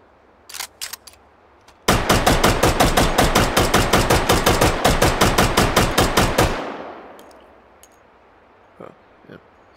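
Vector submachine gun firing in the H3VR virtual reality game, a rapid close burst of around thirty sharp shots over nearly five seconds, preceded by a few clicks and followed by fading echo and stray taps.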